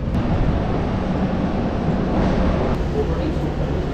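Anand Vihar–Lucknow AC double decker train running just after leaving Ghaziabad, a steady continuous rumble and rattle heard from inside the carriage, loud and even throughout with no breaks.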